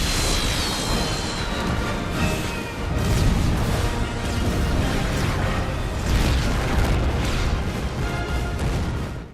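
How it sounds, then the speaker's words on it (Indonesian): A film explosion blows up a government building, a sustained loud roar of blasts and rumbling debris lasting several seconds with crackling bursts on top and no voices. "untuk meledakkan gedung pemerintah serta menghabisi para pejabat korup"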